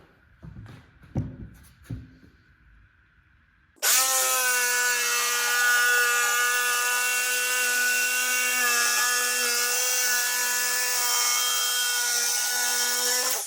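A wooden door threshold piece, clamped to plywood, is cut with a power saw. A few knocks and handling sounds come first, then a loud, steady, high whine of cutting holds to the end.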